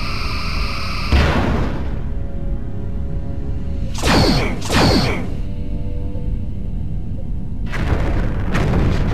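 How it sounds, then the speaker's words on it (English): Torpedoes launch from a starship's rear tubes in Star Trek Bridge Commander. Loud booming whooshes come in separate bursts, one followed by a quick pair and then two more, over a steady humming engine drone. "Lining up rear torpedo tubes."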